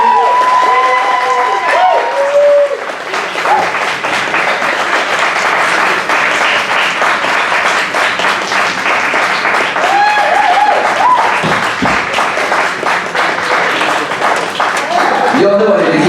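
A poetry slam audience breaks into sustained applause with cheering, a dense roar of many hands clapping at close range that runs loud and steady throughout, with occasional whoops and voices rising out of the crowd.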